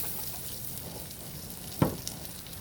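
Bacon sizzles steadily in a hot cast iron pan, a constant hiss of frying fat with one sharp crackle or spatter near the end and no talk.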